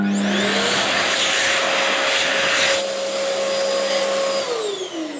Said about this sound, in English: That's right, it's a hand dryer.